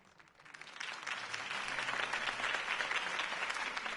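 Crowd applause after Harvey Dent's campaign speech in the Batman Telltale game, clapping that swells up from quiet over the first second and then holds as a steady, fairly distant roar.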